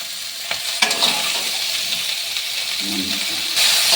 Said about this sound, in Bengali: ক্যাপসিকামটা আর এগুলো আমি একটু লাল লাল করে ভেজে নেব